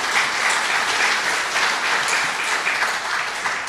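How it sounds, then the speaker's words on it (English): An audience applauds after a round of an Oklahoma County district attorney candidates' debate, steady and fairly close hand clapping that carries on without talk for several seconds. "Round of applause for everybody."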